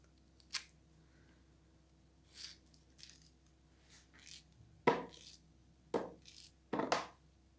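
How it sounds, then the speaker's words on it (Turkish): A handful of sharp knife chops through unpeeled peaches into cubes on a cutting board, spaced irregularly and close by, with a quick double hit near the end. "Şöyle küp küp şeftalilerimizi doğruyorum."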